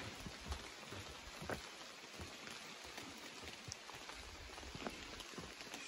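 Steady rain falls all around on the Appalachian Trail among rocks, a constant soft hiss with scattered drops pattering on nearby surfaces, no voices.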